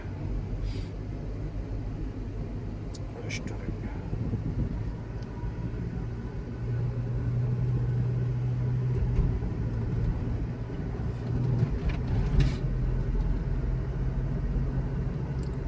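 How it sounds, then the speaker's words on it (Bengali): Traffic on a main road hums as a continuous low rumble, with passing vehicles swelling slightly in the middle and faint higher clicks and noises scattered over the steady drone. "এটা হচ্ছে মেন রাস্তা, মেন রোড বলে যেটা"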